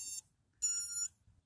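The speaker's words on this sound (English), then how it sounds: "Beep, beep, beep." Drone electronics beep after a reset during a first test flight: two short, sharp high electronic tones in quick succession, clean and fairly close, with quiet gaps between.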